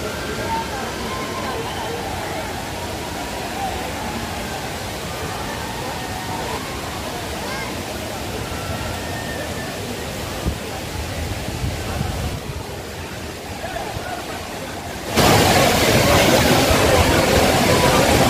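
Aagaya Gangai waterfall in the Kolli Hills roars as a constant dense rush of falling water, loud and close throughout, swelling louder near the end.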